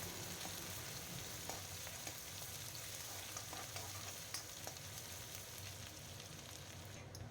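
Onion and ginger-garlic paste fry in hot oil for a fish curry, giving a steady, quiet sizzle with faint crackles and occasional stirring taps, no voices.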